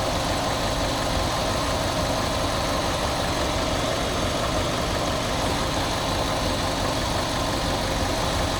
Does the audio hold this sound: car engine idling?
yes